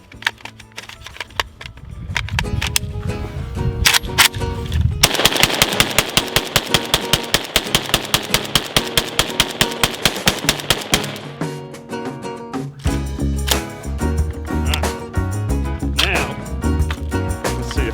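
Riley Defense RAK-47 rifle firing a rapid, even string of sharp loud shots in the middle, with scattered single shots and handling noise before and after, under background voices.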